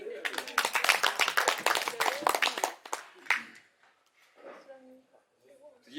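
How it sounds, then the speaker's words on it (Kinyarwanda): Audience applause at a book launch for a Kinyarwanda book, dense and loud clapping for about three seconds before it fades into scattered claps and quiet room noise with faint voices. "mwongera amashyi"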